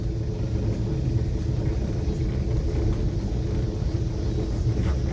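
A 1965 Chevy car rumbles steadily in first gear, a low continuous engine drone close by with no voices over it.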